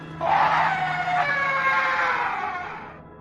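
A single long, high scream rises out of quiet, holds for a couple of seconds, then trails off into background noise.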